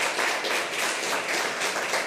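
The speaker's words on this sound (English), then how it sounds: "I appreciate applause and stuff like that" Applause in a city council meeting room, a soft, even wash of clapping from a small audience, continuous and fairly faint.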